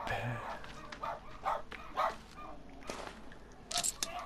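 Dogs bark somewhere in the distance inside a cave level of the survival video game The Forest, a few short yelps scattered across the moment over ambient game sound and a voice.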